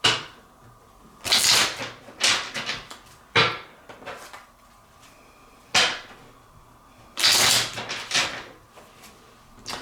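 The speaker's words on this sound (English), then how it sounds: "I want to give this a really good shuffle." A deck of tarot cards is shuffled vigorously on a table, giving repeated bursts of riffling and slapping that are separated by short pauses, close and clear.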